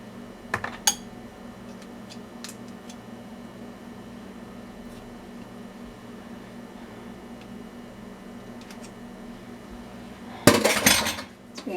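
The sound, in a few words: spoon scraping and clinking in a bowl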